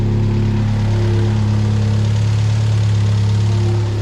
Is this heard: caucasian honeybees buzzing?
no